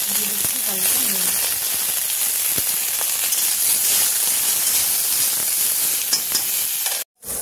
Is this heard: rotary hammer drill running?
no